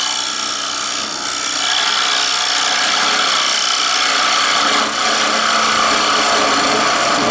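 A carbide hollowing tool cuts into wood spinning on a lathe, giving a loud, steady scraping hiss that runs unbroken throughout, with no voices.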